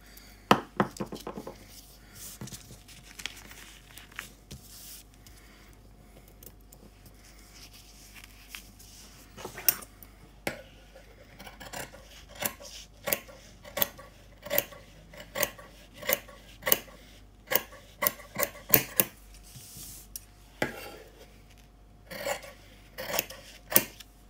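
Scissors cutting fabric for a sewn bucket hat, a long run of close, crisp snips and sliding blade rasps, with sparse cuts early on and then a steady rhythmic series of sharp clips.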